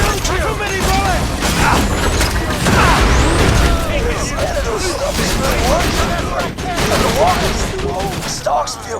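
Game gunfire and mechanical clatter from Borderlands 2 on Pandora, dense rapid shots layered with whirring effects, loud and continuous, with voices talking through it.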